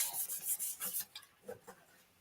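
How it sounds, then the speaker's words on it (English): Close, quiet rubbing as a surface is burnished in a craft makeover: a quick, raspy back-and-forth scrubbing that fades into a few softer strokes, heard alone. "Okay, and then we'll burnish it."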